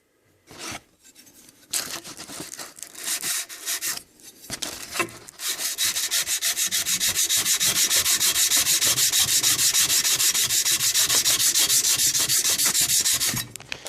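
An old hand plane blade is trued by rubbing it on an abrasive surface, with a few scattered scrapes at first, then a fast, steady rasping back-and-forth scrub that is loud and close.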